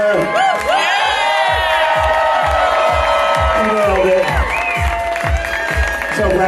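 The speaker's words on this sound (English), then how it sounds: "Let's give a big round of applause for her." Loud crowd cheering and applause for a winner at a San Francisco championship, with whoops and shouts over rhythmic clapping and voices throughout.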